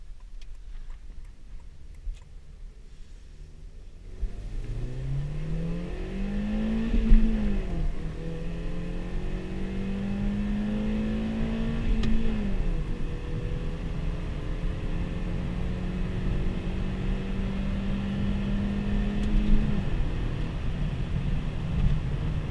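A Honda car engine revs hard under full throttle as VTEC engages, its pitch climbing steadily in several long, loud pulls that each drop back briefly before rising again, with no one talking.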